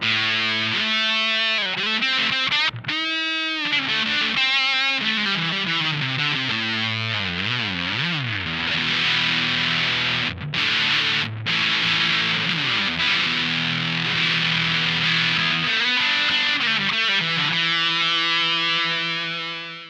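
Heavily distorted electric guitar through a Tim Guitars Big Mud fuzz pedal, playing sustained chords and bending notes, loud and continuous with a brief break partway through.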